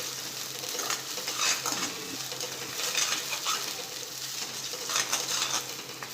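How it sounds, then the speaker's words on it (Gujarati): Garlic and onion sautéing in oil, a moderate sizzle with periodic swells as the pan is stirred, close and without talk. "એને તેલમાં સાતળી લઈશું એટલે આપણે લસણની કાંદાની કચાશ દૂર થઈ જાય"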